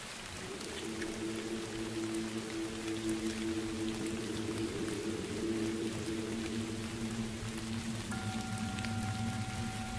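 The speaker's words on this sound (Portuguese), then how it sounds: "você escuta o som da chuva e relaxa profundamente" Steady rain falls in a continuous soft hiss, a relaxation soundscape with no voices, a low tonal hum running beneath the downpour throughout.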